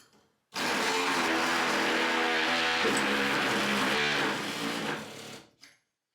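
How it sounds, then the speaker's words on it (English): A multi-tool cuts through bathroom laminate around a pipe, a loud, continuous buzzing drone that starts abruptly, holds for about five seconds and then cuts off. "I'm having to cut the laminate out from around this pipe so I can slide it out, and this multi-tool is working great for that."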